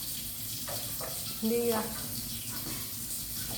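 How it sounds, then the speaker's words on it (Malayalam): Water runs from a tap through a pipe in a steady, splashy stream, heard close and continuous, while a person speaks briefly over it. "ആ പൈപ്പ് ഓഫ് ചെയ്തേ"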